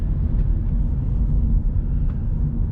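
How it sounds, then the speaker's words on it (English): Low, steady engine drone and road rumble inside the cabin of a 2021 MG 5 sedan while driving, continuous and muffled with no talk. "we'll hear the engine noise inside."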